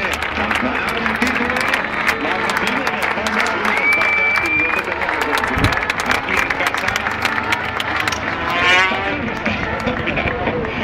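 Spectators applaud trackside at a 250cc Grand Prix motorcycle race in Valencia, a steady dense crowd clapping mixed with roaring race engines and a commentator talking over it throughout.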